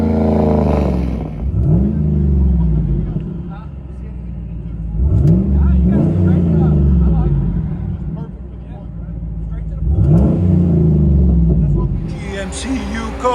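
Deep V8 exhaust of a GMC Yukon 6.2L V8 with aftermarket exhaust, heard from inside the cabin: three loud rising revs with a low rumble between them, close and steady.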